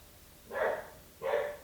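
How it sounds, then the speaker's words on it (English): A dog barking outdoors, two distinct barks about half a second apart, moderately close and alone. "My dog is barking outside."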